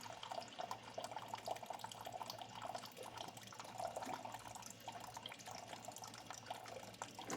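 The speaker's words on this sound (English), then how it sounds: "we're just going to put it right here on the water machine and start filling with" Water runs steadily from a tap into a filling pot, a continuous splashing rush with no voices.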